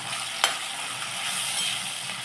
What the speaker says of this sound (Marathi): कांदा मऊ होईपर्यंत परतून घ्यायचा